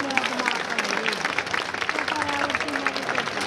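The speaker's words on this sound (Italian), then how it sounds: "fate un applauso, Federica Del Vento." An audience at a summer festival dance-school show in Mirabello, Italy applauds continuously, dense clapping at a steady level throughout, with a voice faintly audible beneath it.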